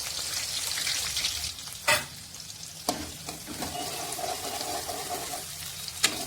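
Chopped onions fry in a pan during chicken curry cooking, making a steady close sizzle under occasional sharp clanks and scrapes of a stirring spoon against the pan, with no talking.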